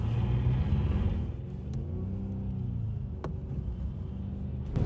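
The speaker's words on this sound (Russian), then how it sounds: "Максимально нажимаю на газ, чтобы максимальный был зацеп." A rear-wheel-drive BMW accelerates hard on a snowy road, its engine giving a deep, loud, steady rumble that eases slightly and then builds again.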